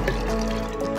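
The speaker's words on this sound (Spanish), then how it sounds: "Ya tengo aquí el jugo de mandarina. Se lo voy a poner" Mandarin juice poured into water for a homemade mandarin drink, a steady liquid pour and fill sound with a faint trickle, continuous and close.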